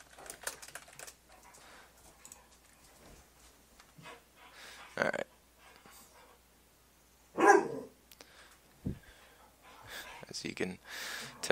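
Dogs barking indoors behind someone playing a Magic card game, with a few sharp, separated barks standing out over quiet room noise and scattered clicking, while a person talks.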